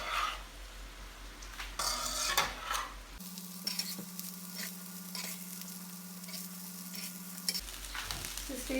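Rice being stir-fried in a pan for Chinese-style vegetable rice gives steady scraping stirs and a soft sizzle, with a long low steady hum running through the middle.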